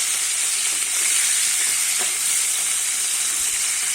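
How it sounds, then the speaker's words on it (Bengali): Prawns fry in hot oil in a pan, giving a loud, continuous sizzling hiss with no pauses. No one speaks over it. "আমার চিংড়ি মাছগুলো কিন্তু ভালো করে ভেজে নিয়েছি।"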